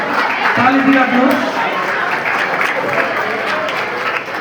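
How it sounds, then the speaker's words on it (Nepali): Students at a class 8 school farewell program clap together in a sustained, steady round of applause, with voices audible over and amid the clapping throughout. "ताली ताली ताली ताली दिइराख्नु"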